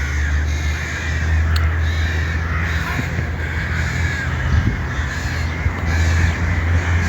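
Noisy crows caw repeatedly outdoors over a steady low hum and constant background noise, their harsh calls continuing loud and close throughout.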